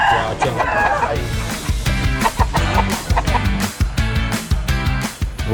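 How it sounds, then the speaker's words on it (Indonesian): Bangkok fighting chickens in Thailand clucking and crowing loudly and close, with repeated rapid clucks and calls over a busy, noisy background, and some faint voices underneath. "ayam Bangkok menjadi salah satu ayam yang sering digunakan dalam festival maupun perayaan adat di Thailand"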